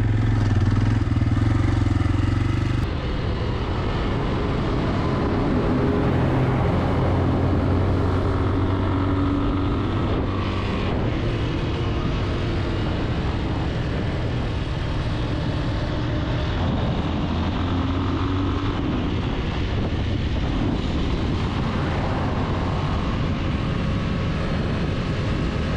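A motorcycle rides along a road after a long stretch of forest track, its engine droning loud and steady throughout with constant wind-rushing noise and small shifts in pitch.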